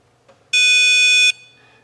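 A continuity tester on a Chrysler/Dodge TIPM repair gives a single steady electronic beep of just under a second, clear and close against a quiet background.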